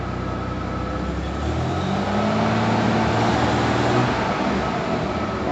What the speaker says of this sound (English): We'll let her sit here and idle and warm up maybe